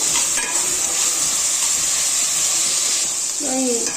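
Onions frying in a pan with capsicum, stirred steadily, giving a loud continuous sizzle with scraping strokes near the start and a brief voice near the end.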